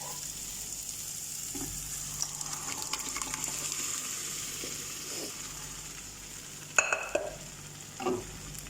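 Masoor dal is stirred into softened vegetables in a pan, giving a low, continuous sizzle with wet stirring and scraping, then a few louder clinks and sloshes near the end.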